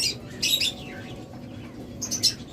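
A pair of opaline Fischer's lovebirds kept as pets gives sharp, high chirps and squawks in short bursts near the start and end, over a low steady background hum.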